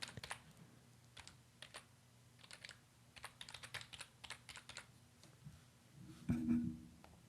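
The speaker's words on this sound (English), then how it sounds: "and I will just type it here." Someone types on a computer keyboard with quick bursts of keystrokes broken by short pauses. It is close and fairly quiet, with no voices, and a brief tone sounds near the end.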